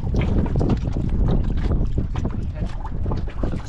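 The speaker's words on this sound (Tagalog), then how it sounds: "Lakas pa ng hangin." Strong wind at sea buffets the microphone on a fishing boat among whitecapped waves, a loud continuous roar with low rumbling gusts and slapping water throughout, no clear talk.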